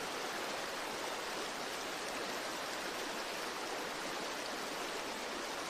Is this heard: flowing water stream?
yes